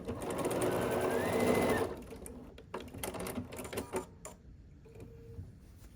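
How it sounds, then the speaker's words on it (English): Sewing machine stitching the final seams of a quilt block, a steady close mechanical whir for about two seconds that stops, followed by soft handling clicks and rustles. "And then you can just sew the two final seams of your block."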